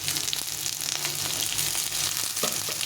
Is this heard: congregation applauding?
no